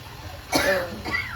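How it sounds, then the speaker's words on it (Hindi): A single short cough, close by, followed by a softer second cough or throat-clearing sound over a quiet background hiss. "और खांसी भी लगी हुई है"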